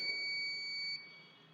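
An electronic buzzer in an LDR light-sensor circuit gives a steady, high electronic tone that holds for about a second and then drops to a quieter hum.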